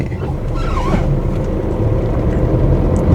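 A Tata Nexon diesel car drives along a road, giving a steady low engine and road rumble heard from inside the cabin, with a voice speaking briefly over it.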